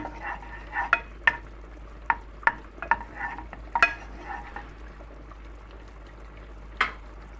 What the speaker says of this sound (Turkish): Şimdi burada şöyle bir yemek kaşığı tereyağını kavuracağım